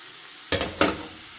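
Garlic drops into hot oil in a pan, giving two quick sizzling bursts that fade into a soft hiss, close and quiet.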